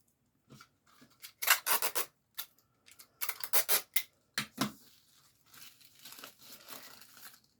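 Small pieces of tape are ripped off a roll one after another for a custom candle craft, close, sharp tearing bursts separated by brief pauses.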